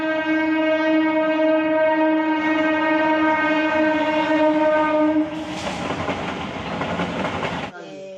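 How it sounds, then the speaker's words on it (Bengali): A train horn blares steadily with strong harmonic tones for several seconds, then loud rumbling and rattling of a train passing close by. "ওই যে ট্রেন আসছে, দাঁড়ো ট্রেন দেখাই।"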